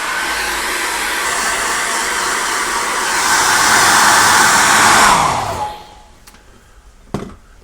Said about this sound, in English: now I'm going to dry that off again with a hairdryer